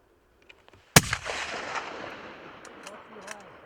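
A single loud hunting-rifle shot fired at a mountain goat outdoors in the mountains, a sharp crack followed by a long rolling echo, with faint voices around it.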